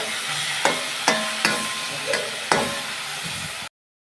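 Garlic and green chillies sizzle steadily in a hot pan, broken by several sharp scrapes and knocks of a spoon stirring them, close and even, before cutting to silence.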